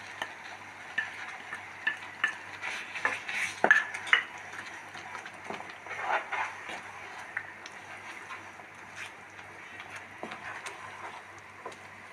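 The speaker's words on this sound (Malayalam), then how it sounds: "നമ്മൾ നല്ലോണം ഇളക്കി കൊടുക്കണത്" A spoon stirs food in a pan during home cooking, giving quiet, repeated scrapes and light taps against the metal at an unhurried, uneven pace, close by but faint.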